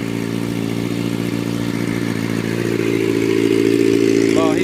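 A warmed-up Kawasaki Ninja ZX6R sport bike idles nearby with a steady, even engine hum that rises slightly in loudness partway through, and a faint voice briefly near the end.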